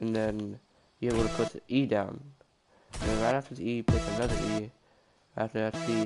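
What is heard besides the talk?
None of the usual background noises is heard.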